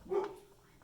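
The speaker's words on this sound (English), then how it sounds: "You can hear my dog barking there now." A single faint dog bark sounds at a distance, short and muffled, followed by quiet, in a workshop.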